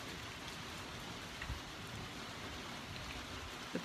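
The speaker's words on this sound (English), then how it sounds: "It wasn't even like full rain, it was just like sprinkles, and now this is rain." Heavy rain in a Midwest storm pours down steadily and evenly, a dense close hiss of drops hitting surfaces that goes on throughout, with a few faint knocks and no voices.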